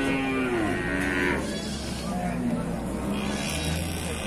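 Cattle at the unloading area of a cattle market in Indonesia, with several drawn-out moos that overlap amid a busy background of talk and crowd noise.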